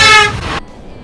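A car horn honks loudly on the Golden Gate Bridge in San Francisco, one sustained blare of about half a second that cuts off sharply, leaving quiet traffic ambience.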